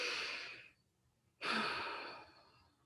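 Two slow, deep breaths in a guided breathing exercise, each a long airy exhale close to the microphone separated by a quiet pause, with no speech.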